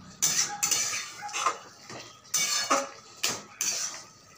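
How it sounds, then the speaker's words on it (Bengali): A metal spoon stirs spinach and potatoes in a cooking pan, with repeated scraping and clanking strokes in an irregular rhythm, close and fairly loud, no talking. "ভালো করে নেড়ে দেবো।"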